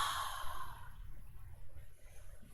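One long, breathy exhale during a gentle vinyasa yoga flow, soft and close, with a hissing rush of air that fades gradually into quiet room tone.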